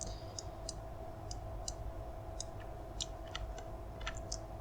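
A computer mouse clicks sparsely while modeling in 3D software, with light, crisp clicks, some in quick pairs, over a low steady hum and no speech.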